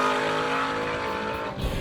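A Chevrolet-powered race car at Lyons, Indiana runs hard through its gears, the engine's sustained roar climbing and dropping across shifts, loud and close with no talk.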